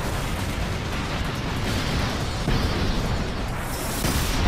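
An explosion in the video game Final Fantasy X-2: a dense, loud, broadband blast with rumbling low end that sustains across the whole stretch, with a brighter burst near the end and no talking.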